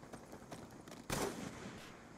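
A sniper rifle fires one sharp, loud shot midway through a Counter-Strike match, breaking over quieter game ambience and a few faint clicks before it.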